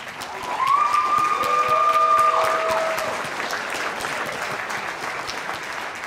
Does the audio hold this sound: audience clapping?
yes